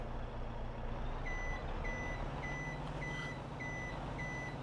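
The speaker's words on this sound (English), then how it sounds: "backup beeper is loud as shit" A truck's reversing alarm beeps six times at an even pace with regular gaps, loud and close, over a steady low engine rumble.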